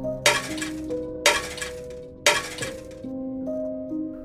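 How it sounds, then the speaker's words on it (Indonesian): Roof tiles fall and shatter onto a living-room table in three sharp crashing bursts, each followed by ringing, clinking fragments, close and loud against an otherwise quiet room with faint tonal sound underneath. "Genting yang jatuh berserakan ke meja ruang tamu."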